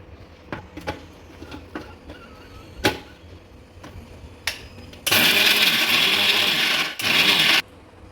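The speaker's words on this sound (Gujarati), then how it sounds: "આ બધું મિક્સ કરીને મિક્સરમાં આવા અને મિક્સ કરી નાખીશું।" A kitchen mixer grinder whirs loudly in two bursts, a long run and then a short one, grinding fennel, chavanu and spices after a few scattered clicks and knocks.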